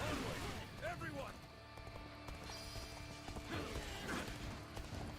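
Galloping hooves clip-clop steadily beneath a horse's neigh in Dynasty Warriors: Origins, mixed with other game sounds and voices throughout.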